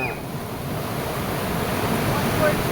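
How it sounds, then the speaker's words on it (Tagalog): Ocean waves rush and roll in a steady broad wash, with wind buffeting the microphone, loud and continuous. "malakas yung alon"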